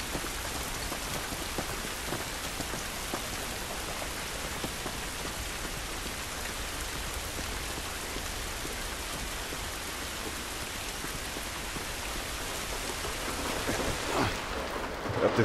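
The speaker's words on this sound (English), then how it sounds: "This rain ain't gonna do us any good." Rain in The Last of Us video game falls as a steady, dense hiss of drops pattering on surfaces, continuous and even throughout with no voices, growing slightly heavier at the end.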